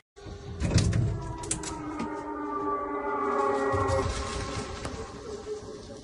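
A steady, wailing air raid siren tone in Chernihiv, Ukraine, sounds continuously after a short start, loud and unbroken, with a few clattering noises near the beginning.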